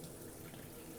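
A washing machine in Taiwan fills with water, giving a steady, loud rushing flow with no break through the whole second.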